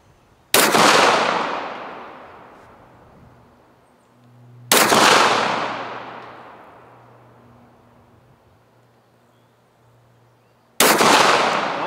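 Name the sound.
pistol gunshots at shooting range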